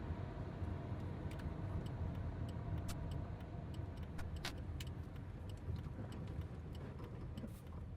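A car being driven, heard from inside the cabin as a steady low road and engine rumble, with faint intermittent clicks and ticks above it and no talking.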